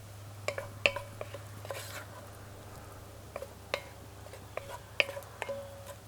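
Food stirred in a pan for a hunting season meal, light scraping and metallic clinks at irregular intervals over a low steady hum, with faint soft talk.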